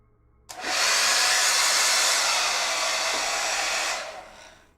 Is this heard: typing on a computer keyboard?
no